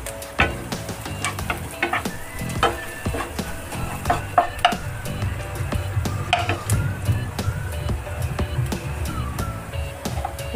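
Onions fry in a pan for dhaba-style sev bhaji, a steady sizzle broken by repeated spatula scrapes and clinks as they are stirred, with no voice over it.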